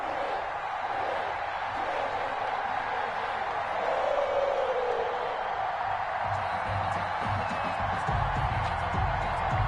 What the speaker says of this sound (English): This crowd is ready as their guys get set to match up between the Tennessee Titans and the Cincinnati Bengals.